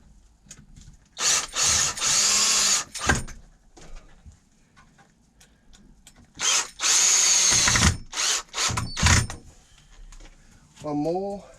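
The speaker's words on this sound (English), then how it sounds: "Spin it over and put some screws in the bottom" A power drill drives screws into a wooden base, several whirring bursts of a few seconds each rising as screws bite, with short pauses between them; a voice speaks briefly near the end.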